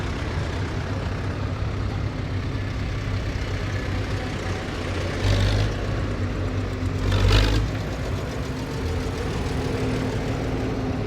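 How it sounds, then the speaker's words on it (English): Tractors on a charity tractor run rumble past in a continuous, fairly loud low engine drone, with a couple of brief louder surges as vehicles go by and a brake-like hiss, without talk. "Look at that, that is a nice tractor."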